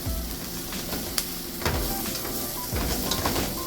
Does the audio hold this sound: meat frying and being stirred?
yes